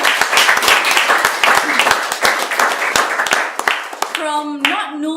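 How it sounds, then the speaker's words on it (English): A round of applause from a small audience of about thirty people at a talk, dense clapping for about four seconds that fades as a voice begins speaking. "Can you give a round of applause?"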